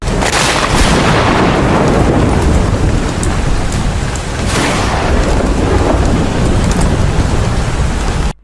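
Heavy rain falls steadily on a rainy day while deep thunder rumbles and cracks through it, loud and close, with no voices.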